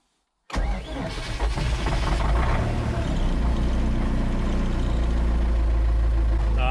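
A cold MTZ-82 tractor engine cranks and catches after a brief silence, then settles into a loud, steady, rough diesel idle close by, on a mild day around +4°C.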